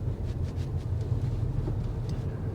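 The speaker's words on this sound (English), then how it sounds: "It is very windy today." Steady, heavy wind buffeting the microphone with a low, rumbling roar, gusting slightly throughout without pause.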